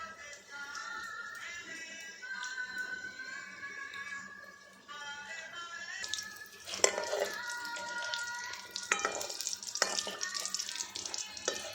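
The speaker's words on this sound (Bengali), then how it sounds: "সিঙ্গারা ভাজছে আমার বউ" Homemade singara samosas deep-frying in hot oil, with a continuous bubbling sizzle and some stirring and utensil clinks, louder and busier in the second half, with a faint tonal voice or music in the background.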